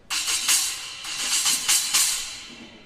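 A bright, trashy Zildjian effects cymbal with half-inch holes is struck several times in a loose rhythm, each hit a hissy, noisy splash that decays quickly.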